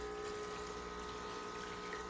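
A water pump fitted with drip irrigation pieces runs loudly and steadily, a constant whirring hum with a watery hiss and sharp tonal whine, sustained without a break.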